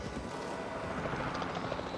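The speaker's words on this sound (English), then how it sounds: "the other vehicle the response facility provides is the capture team, which uses this little helicopter" Small capture-team helicopter in a Jurassic Park management video game, its rotor giving a steady, dense chopping drone at moderate level with no talk.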